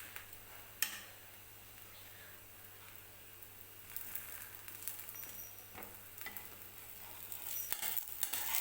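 Thalipeeth, a Maharashtrian flatbread, frying in a little oil on a pan, with a soft continuous sizzle and small spatula scrapes that build louder toward the end.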